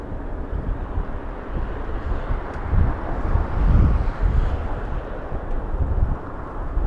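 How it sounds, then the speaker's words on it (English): Strong gusty wind buffets the microphone at Los Angeles International Airport, a loud low rumble that swells and fades in waves, with no speech. "The wind is really picking up."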